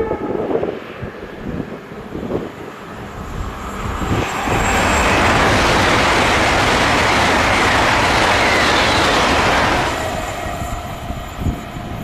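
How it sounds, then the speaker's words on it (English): A British Rail Class 802 on a TransPennine service to Edinburgh via Newcastle rushes past at Beningbrough, swelling from a distant rumble into a loud, sustained roar for several seconds before fading away. "802, which is a new feature on TransPennine services, heads an Edinburgh service via Newcastle."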